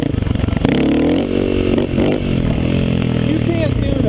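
A Kawasaki KLX250S dirt bike with exhaust and airbox mods revs hard in first gear for a clutchless wheelie, engine pitch rising and falling in loud close surges, with brief talk over it.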